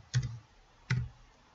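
Two distinct key clicks on a computer keyboard as a number is typed, spaced under a second apart, close and fairly quiet.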